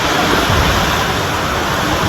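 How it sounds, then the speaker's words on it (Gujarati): Heavy monsoon rain drums on a tin sheet roof, a loud, dense, unbroken roar with no gaps. "વરસાદ ચાલુ છે, તમને જો આ પતરામાં અવાજ આવતો હોય છે કેવો આવે એ તમને બધાને ખબર છે."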